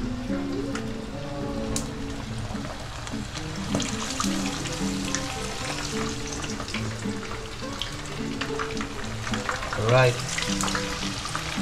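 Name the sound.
food frying in a hot pan (kawali)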